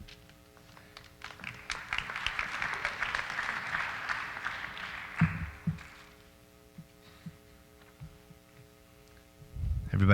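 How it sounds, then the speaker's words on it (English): Audience clapping at a high school academic awards night, a round of applause that builds over the first few seconds, then fades out, leaving faint thuds and room hum. "Everybody tired of clapping yet?"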